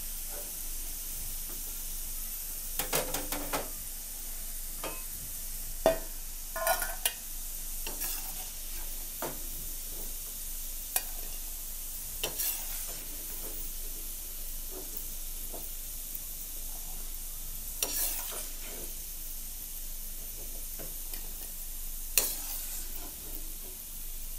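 Kupatha, rice pouches wrapped in leaves, deep fry in hot oil with a continuous bright sizzle and hiss, punctuated by occasional stirring scrapes and bubbling bursts, close and steady throughout.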